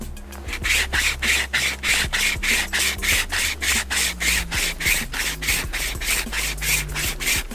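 A hand saw, a compact survival-style saw, cuts through wood in steady, even back-and-forth strokes, about three per second, close and loud, with no voices.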